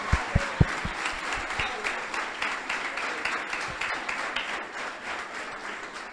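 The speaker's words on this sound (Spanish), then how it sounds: "denle un fuerte aplauso a esta generación de oro" Applause from a church congregation honoring its grandparents during a conference service, a steady, fairly soft wash of clapping that runs throughout, with a few sharper low thumps near the start.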